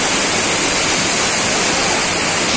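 Kempty Falls waterfall near Mussoorie on the Yamunotri route, a steady broadband roar of rushing, crashing water, loud and close and unbroken throughout with no speech over it.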